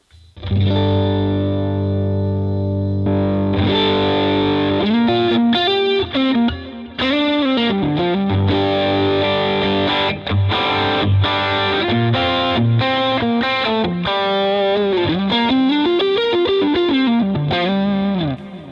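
Electric guitar through a Fractal FM3 with Tube Screamer-style overdrive pushing the mids, sustained chords giving way to busy bends and runs, loud and continuous with a chorus-like shimmer.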